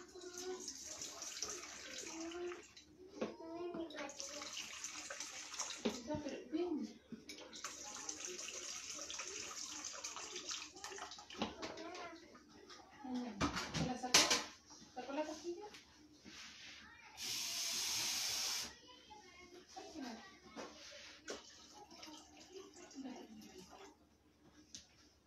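Half a litre of warm water is poured and mixed into hallulla bread dough, a brief, steady splashing pour of about two seconds set among ongoing Spanish speech and kitchen handling noises.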